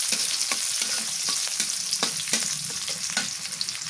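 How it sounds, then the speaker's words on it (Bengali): Whole cumin seeds sizzle in hot oil for pointed gourd fry, a constant crackling fry broken by frequent quick taps and scrapes of stirring, close by and without speech. "আস্ত জিরা কটা আস্ত জিরা দিচ্ছি"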